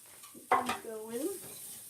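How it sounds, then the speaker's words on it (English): Vegetables sautéing in a pan, with a sudden burst of sizzle and stirring as they hit the heat, then a short tonal whine and fading sizzle under faint background sound. "saute up the veggies first before you put the flour in"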